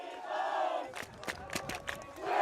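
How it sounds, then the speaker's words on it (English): A crowd at a boys soccer playoff between Durfee and Natick cheers and chants loudly and rhythmically, with repeated shouted bursts swelling at the start and end. "And now the crowd cheering on Willie Bones"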